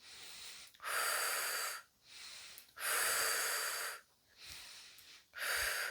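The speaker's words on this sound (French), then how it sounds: "nous pouvons adopter une respiration un peu plus tonique" Vigorous breathing exercise during a sophrology relaxation session: three strong, airy breaths about a second long each, evenly spaced and close, with quiet pauses between them and no talking.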